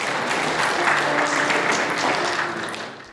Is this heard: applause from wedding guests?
yes